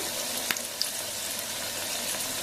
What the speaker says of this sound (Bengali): আলুটা একটু ভাজা হোক